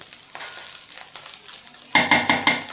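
Fried rice made without vegetables is stirred in a pan, with faint scraping giving way to four loud, evenly spaced clanks of a spoon against the pan over a light sizzle.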